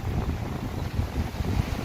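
Strong early-spring wind in the Netherlands buffets a handheld phone microphone outdoors, making a loud, continuous low rumbling roar with no pauses and no speech.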